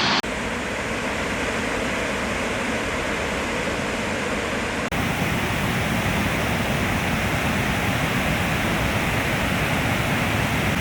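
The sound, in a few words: loud powerful waterfall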